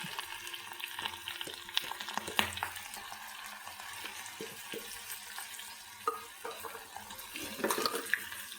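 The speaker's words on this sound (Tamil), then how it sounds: "இது கொஞ்சம் நல்லா செவத்துல வதக்கிங்க" Ginger, green chili, curry leaves, black pepper and asafoetida fry in oil for pongal, a faint soft sizzle with watery crackle and occasional light stirring taps, no voices.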